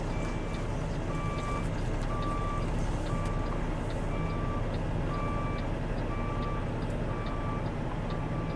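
Truck reversing alarm beeping in steady repeated pulses while a Melton Truck Lines rig backs up with flashers on, over a continuous loud engine rumble.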